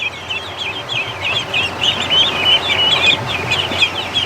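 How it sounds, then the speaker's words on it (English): Young ducklings kept alongside a gosling in a garden pen cheep in rapid, high, overlapping peeps, a steady near chorus over low rumbling background noise without speech. "The ducks are trying to escape, or the ducklings, I should say."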